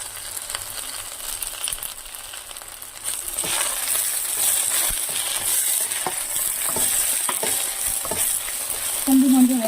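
Dried gongura leaves fry in hot oil with a continuous close sizzle. Stirring scrapes cut in now and then, and the sizzle grows louder partway through.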